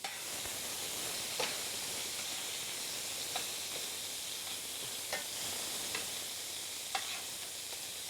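Peppers and rice frying in a pan, a steady close sizzle and hiss throughout with a few sharper crackles and stir clicks scattered across it.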